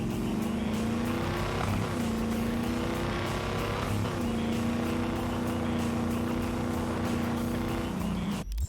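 A heavy truck drives steadily through Cyberpunk 2077, its engine droning loudly and continuously with small shifts in pitch, and a brief knock near the end.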